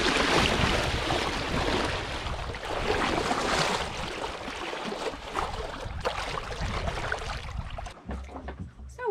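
Sailboat under sail on an Atlantic Ocean crossing, a rushing wash of water against the hull mixed with wind noise, steady and fairly loud, with a few creaks and knocks near the end.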